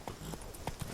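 Horse hooves clip-clopping at a walk in The Witcher 3: Blood and Wine, a few distinct hoof strikes over a steady ambient game backdrop.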